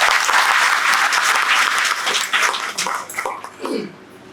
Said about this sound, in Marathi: जोरात टाळी तुमच्यासाठी